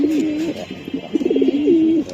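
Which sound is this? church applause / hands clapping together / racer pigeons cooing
racer pigeons cooing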